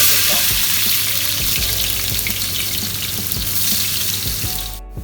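Onion and garlic frying in hot oil in a pan while cooking a chana dal special rice, a loud, continuous close sizzle and crackle throughout that cuts off abruptly at the very end.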